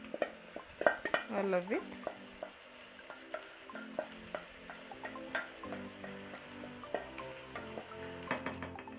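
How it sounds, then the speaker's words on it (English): Onions and garlic frying in butter in a pan, a soft sizzle under repeated clinks and scrapes of a utensil against the pot, close, with brief talking at the start. "Add your onions and garlic and butter."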